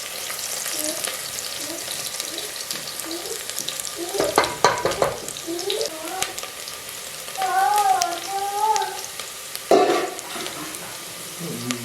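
Onions sizzle in a pan for a Bannu beef pulao, a bright steady frying crackle with bursts of stirring and a few louder clatters, heard close and alone.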